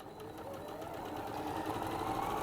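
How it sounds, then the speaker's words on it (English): A sewing machine runs steadily, joining two cushion pieces right sides together, with a close, continuous whirring hum that holds the same pace throughout. "So I'm going to sew those 2 right sides together"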